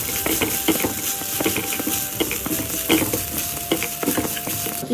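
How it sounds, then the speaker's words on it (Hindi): Fresh grated coconut is stirred into a hot pan of fried dals and cashews, a steady loud sizzle with rapid scraping spoon strokes throughout, close up and without speech. "अब हम इसमें ये फ्रेश ग्रेटेड कोकोनट डाल देंगे।"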